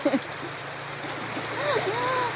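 A small man-made waterfall of piled stones at an outdoor bathing spot sends out a steady, rushing wash of water, with faint voices over it.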